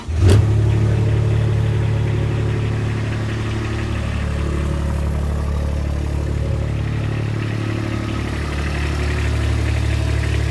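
A 2021 Kubota RTV X1140 utility vehicle with a glow-plug diesel engine cranks briefly, catches, then settles into a steady, loud, close idle that runs unchanged to the end.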